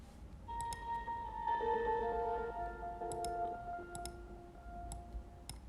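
Staccato whale-like synth patch from a free Spitfire Audio plugin, with short pitched tones stepping up and down over a low rumbling bed and scattered clicks, heard alone and fairly soft.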